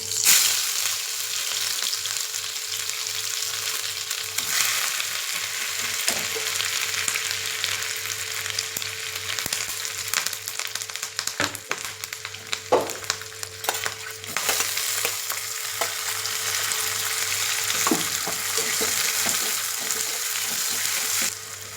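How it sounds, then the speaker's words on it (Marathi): Mustard seeds and a spice paste fry in hot oil for a traditional horse gram besan dish, giving a loud, steady sizzle with scattered crackles and pops throughout and no talking. "इथे तेल गरम झालंय मोहरी टाकूया इथे ही पेस्ट टाकूया"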